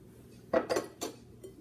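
A few scraping, clinking strokes of a spoon working honey and granola bar ingredients together in a bowl, three or four short bursts close by with quiet pauses between, no voices.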